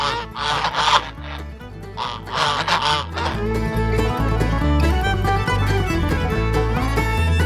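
Loud, nasal honking calls overlap in a dense, agitated chorus close by, like a flock of geese squabbling, with no voices.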